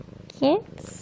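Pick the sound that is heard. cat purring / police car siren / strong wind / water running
cat purring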